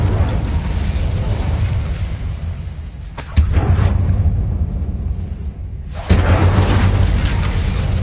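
A fire spell cast in the Hogwarts Legacy video game, giving two sudden whooshing bursts with booming low rumble over a continuous roaring game soundscape, each burst loud and close.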